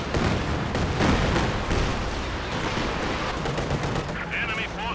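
Artillery and gunfire in the strategy game Company of Heroes 2, a dense, loud roar of overlapping blasts and rattling shots that continues steadily for the whole stretch, with a voice faintly audible underneath.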